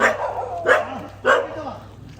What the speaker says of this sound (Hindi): ये देख के भौंक रहे हैं, ये इसको देख के भौंक रहे हैं।